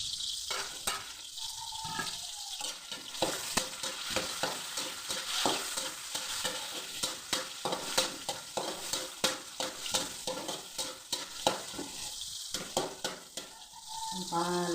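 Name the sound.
tomato stir-frying in pan for ampalaya dish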